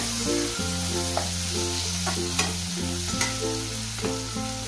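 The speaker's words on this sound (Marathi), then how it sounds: "थोड्या भाज्या फ्राय करून घेते" Vegetables including green beans frying in a pan for veg biryani, a steady sizzle with light spoon scrapes, while a droning melodic music bed plays over it throughout.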